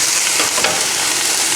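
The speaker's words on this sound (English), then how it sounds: "You've got a stir fry on the grill, and it's quite cheap." Chicken stir fry with bean sprouts sizzles loudly and steadily on an outdoor grill top, a dense continuous hiss and crackle with no voices.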